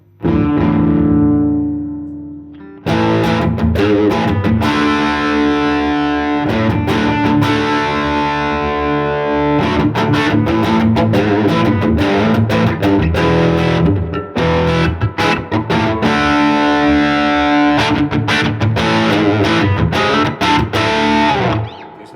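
Heavily distorted electric guitar through an overdrive pedal with gain turned up plays loud, thick chords and riffs with a saturated, fuzzy tone, after a brief decaying chord at the start.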